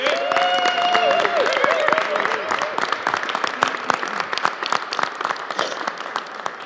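An audience at a political event applauds a newly introduced senator, dense clapping that starts strong and thins out, with a few voices and cheers over it at the beginning.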